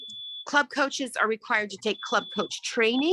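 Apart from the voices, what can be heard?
malfunctioning home fire alarm going off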